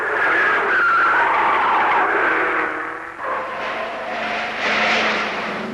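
Holden GTS and Ford Falcon GTHO race cars roar past at speed under hard braking, producing a sustained loud blend of engine noise and tyre scrub that dips briefly midway and then swells again.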